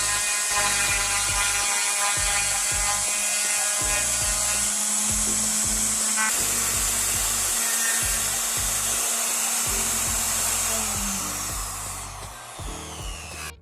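A small CNC 3018 router mills a recess for a speaker into a wooden table, giving a loud, continuous high whine with rhythmic stepping pulses as the bit cuts, steady throughout and easing slightly near the end.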